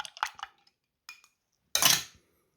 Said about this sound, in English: Stir it up again.